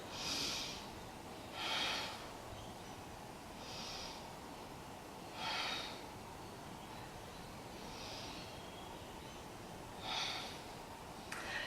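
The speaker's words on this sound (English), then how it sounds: "So let's take 3 breaths here." Slow, deep yoga breaths repeat at a steady pace, about six soft airy inhales and exhales spaced roughly two seconds apart, close and quiet over a faint background hiss.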